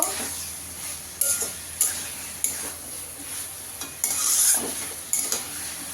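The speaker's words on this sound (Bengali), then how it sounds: "এবার আমি ওল আলু চিংড়ি মাছ একসঙ্গে ভেজে রেখেছি, সেটা দিয়ে দেবো। দিয়ে ভালো করে কষিয়ে নেব।" Fried yam, potato and prawns sautéed in spice paste, sizzling steadily as a spatula scrapes and knocks the pan in a rhythm of about one stroke per second, close up with no voices.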